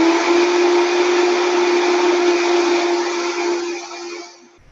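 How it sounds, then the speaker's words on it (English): A Vitamix blender runs on high, blending ingredients with a loud, steady whine and hiss that holds for several seconds before the motor cuts off and winds down quickly. "I'm just going to put it in here long enough to get everything blended together"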